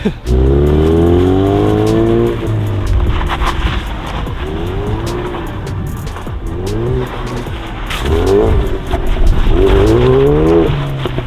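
A Ford Focus RS drifts loudly up close, its engine revving and rising and falling in pitch while the tires squeal and skid through repeated slides.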